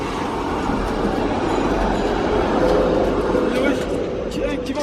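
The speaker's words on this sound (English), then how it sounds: "And the tram." A tram rolls past on a city street in Amsterdam, giving a steady rumble with rail clatter and faint wheel squeal close by. People talk casually over the passing tram.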